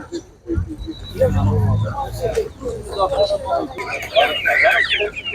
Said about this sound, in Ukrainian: птиця, птиця, птиця, бачите?